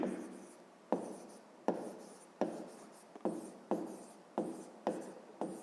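Hand writing with a pen on paper while working a grade 5 math exercise, a series of about eight scratchy strokes at a steady rhythm, each starting sharply and fading, close and quiet.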